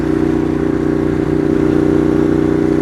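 A Ducati Monster 821 with a Competition Werkes exhaust idles and revs close by, a steady deep throbbing engine note that barely changes in pitch.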